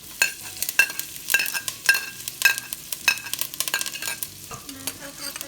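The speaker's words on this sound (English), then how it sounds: "So we're melting 3 tablespoons of butter in the pot" Half a chopped onion sizzles in three tablespoons of melted butter in a pot, with repeated sharp stirring scrapes and clinks over a soft crackle.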